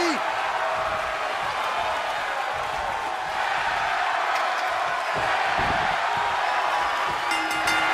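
A wrestling crowd roars at a men's championship ladder match, a broad, steady wall of cheering and whooping filling the arena, with louder swells and a few sharp thuds later on.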